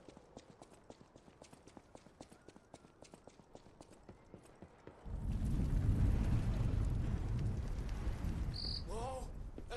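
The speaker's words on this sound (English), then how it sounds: "There's like a rumbling or something." An earthquake in the video game Lies of P begins as regular clopping footsteps, then a deep, loud rumble swells and holds, with a brief electronic chime near the end.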